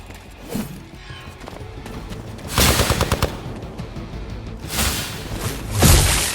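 Rapid bursts of gunfire in Marvel's Midnight Suns, loud clustered shots around the middle and again near the end over a busy game soundtrack.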